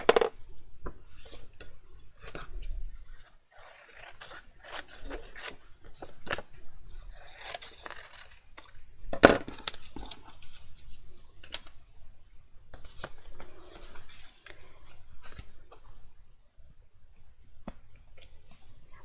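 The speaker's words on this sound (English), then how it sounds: "So I'm just going to rough cut this with my scissors." Scissors rough-cut paper for a handmade gift box, giving soft repeated snips and crisp crunching slices at close range, with brief pauses and one sharper snap midway.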